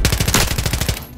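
Rapid automatic gunfire from a shooter video game crackles in a tight, evenly spaced burst of about a dozen loud shots, ending abruptly.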